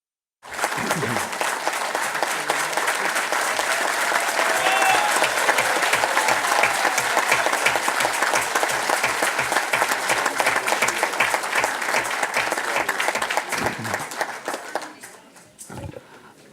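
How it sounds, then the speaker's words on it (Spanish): Warm applause from an audience at the papal opening of the synodal sessions, rising quickly and holding steady for many seconds before fading out, with a few voices near the end. "El cálido aplauso indica agradecimiento."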